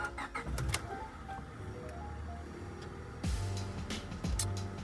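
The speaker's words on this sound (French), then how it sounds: "on va démarrer le HRV" A cold Honda HR-V engine converted to run on ethanol is cranked and started twice, each start a close, brief whirr that catches into a low steady idle, with a few small clicks around it.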